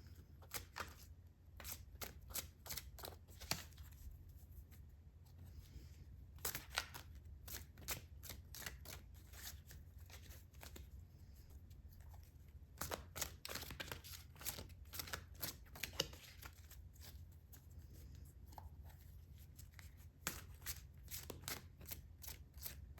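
Tarot deck being shuffled at close range: long stretches of crisp, rapid card riffles and flicks in irregular bursts, separated by short pauses, quiet and without talk.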